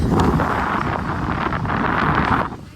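Wind rushes in steadily through an open bus window, a loud, continuous buffeting roar with engine rumble underneath that fades slightly at the end.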